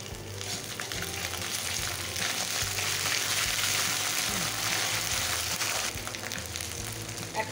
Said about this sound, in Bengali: এখন দিয়ে দিচ্ছি এই যে আদা বাটা, রসুন বাটা।